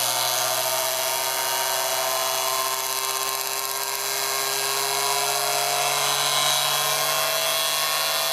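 An Orbo motor (pompom) running steadily at top speed in its starting position, giving a continuous, close whine with strong steady tones and no pauses.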